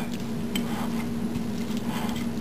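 A utensil stirs egg roll filling with red chili sauce in a bowl, giving soft scraping and squishing with light clinks against the dish, close and steady with no talk.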